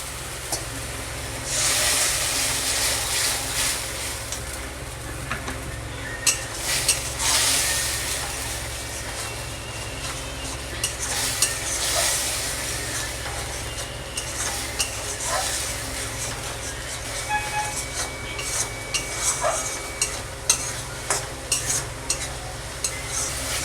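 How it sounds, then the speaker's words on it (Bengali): Chana masala spice paste frying with a splash of water in a pan, a continuous close sizzle and hiss punctuated by scraping stirs and clinks of the spatula, with no talking. "আমি অল্প একটু জল দিয়ে ওটাকে একটু ভালো করে ভেজে নেব"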